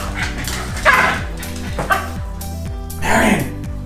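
Dogs, including a paralyzed puggle, bark in a few sharp bursts close by over a steady droning background, with a person talking in between.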